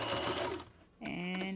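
A sewing machine stitching fabric in two short bursts, a steady close mechanical whir that briefly pauses before resuming.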